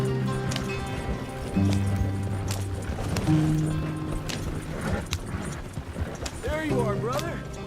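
A horse in Red Dead Redemption 2 gallops with rhythmic clip-clop hoofbeats under game music and voices, and near the end a brief whinny rises.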